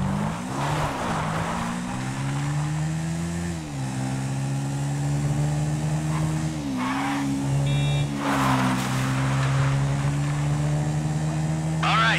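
Car driven in GTA V on PS5, a steady engine drone whose pitch rises and dips with gear and throttle changes, with occasional bursts of other game noise and voices talking over it.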